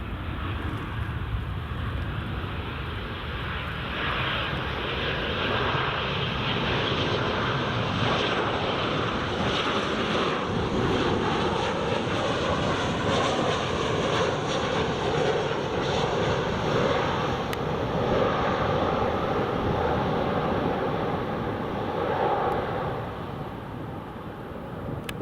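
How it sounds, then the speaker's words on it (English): A KLM airliner in SkyTeam livery comes in to land at Newcastle, its engines a loud, steady roar that holds for the whole stretch before easing slightly at the end. "There's the KLM Sky team just coming in."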